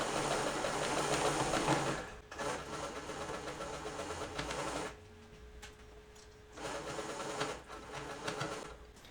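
A sewing machine stitches a yoke collar piece onto a cape seam, running in a loud, steady whirring drone that pauses briefly twice and then resumes, with no talking.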